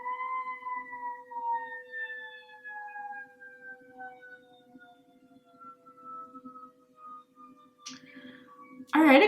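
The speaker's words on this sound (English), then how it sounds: "well sirens are going off" Several sirens wail at once, their long tones gliding slowly downward in pitch, moderately distant under a steady hum, with a sharp burst of noise at the very end.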